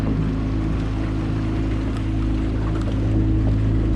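A motorboat engine drones steadily and loudly throughout an open-water boat ride, with a constant low hum and water rush and no pauses.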